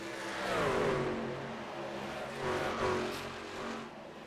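Sportsman Legacy race trucks roar around Auto Club Speedway, a continuous loud engine drone with rising and falling pitch as several trucks pass close by, swelling twice amid the dense pack noise.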